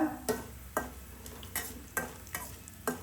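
Chopped green chilies and ginger frying in ghee for coconut rice, with a soft steady sizzle under a string of sharp spatula scrapes and taps that fall roughly every half second.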